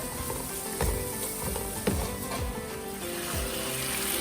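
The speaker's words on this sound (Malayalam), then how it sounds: "സവാള വഴന്നു വന്നു കഴിഞ്ഞപ്പോൾ ഇതിലേക്ക് ഇഞ്ചി, വെളുത്തുള്ളി ഓരോ ടേബിൾ സ്പൂൺ വീതം ചേർത്ത് കൊടുത്തിട്ടുണ്ട്." Sliced onions sauté with a tablespoon each of ginger and garlic in a pan for a Malaysian biryani masala, a continuous close sizzle with occasional scraping stirs.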